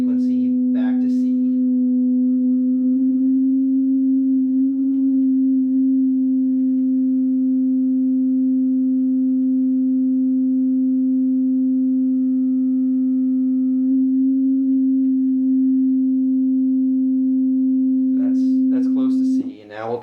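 An Oberheim OB-8 synthesizer holds a pure, steady sustained tone at C during tuning calibration, a constant hum lasting most of the passage, with brief bits of speech and handling noise at the start and end.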